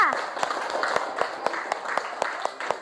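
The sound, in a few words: applause from a class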